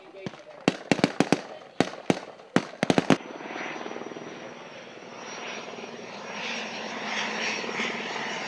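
A military helicopter is used in a rescue exercise. Several sharp gunshots crack first, then the steady, fairly loud rotor and engine drone fills the rest, swelling slightly toward the end.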